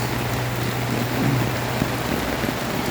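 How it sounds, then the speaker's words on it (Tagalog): Heavy rain pours down in a dense, constant hiss with a low steady hum underneath, loud and close, during a flooding rainstorm. "Sobrang lakas ng ulan guys."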